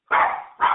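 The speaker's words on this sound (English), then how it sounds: "Oh, that's my dog." A Chihuahua, Maltese and Shih Tzu mix barks twice, nearby and loud, with a brief gap between the sharp yaps and no talking over them.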